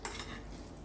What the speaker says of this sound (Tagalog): Ayan, i-mixture natin.